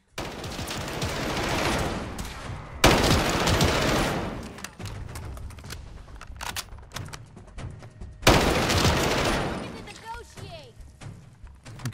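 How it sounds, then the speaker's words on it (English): Laser rifle fire in the modded video game Fallout 4, two loud sustained volleys of rapid shots with scattered pops between them, while someone talks throughout. "Damn laser rifles."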